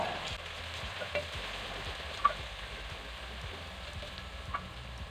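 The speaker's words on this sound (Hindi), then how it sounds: "अब इसमें मैं डाल रही हूँ लहसुन और अदरक का पेस्ट, और इसको भी इसमें अच्छे से फ्राई कर लेते हैं" Onion with garlic and ginger paste frying in a pan for a potato and egg bhujia: a steady, quiet sizzle with a few small pops and occasional stirring scrapes, close and with no voices.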